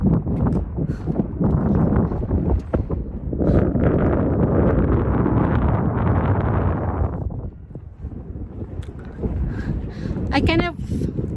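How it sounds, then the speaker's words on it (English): Strong wind at Royal Gorge Bridge in Colorado buffets the microphone in loud, continuous gusts while a person talks over it, with some rustling and footsteps. "It's so windy right now."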